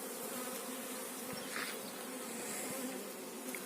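Honeybee swarm at an apiary, a steady dense buzzing drone from many bees close by, filling the whole stretch with no talk.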